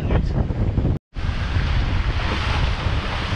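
Strong wind buffeting a microphone aboard a sailboat at sea between Martinique, Dominica and Guadeloupe, loud constant roaring rush with the sea underneath, broken by one brief dropout.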